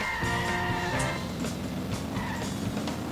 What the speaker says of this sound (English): let's get back in our sweet vehicle.